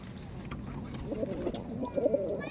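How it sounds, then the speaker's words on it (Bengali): Malbayi pigeons coo in low, soft murmuring phrases, rising a little toward the end over a steady background hum, with no voices. "মালবাই পায়রা সমস্ত পায়রা দেখাচ্ছি"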